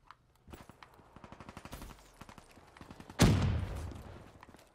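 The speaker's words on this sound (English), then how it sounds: "this gun's actually pretty powerful, and because it's an SMG, the fire is really good" Weevil submachine gun firing in Black Ops 3 team deathmatch: a rapid, fairly faint burst of shots in steady rhythm, followed by a louder sudden impact or blast.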